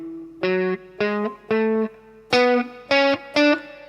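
Seven distinct notes of an electric guitar scale played through a distortion effect sound one after another, evenly picked and sustained, each with a buzzy, saturated tone, loud and close with nothing else around them.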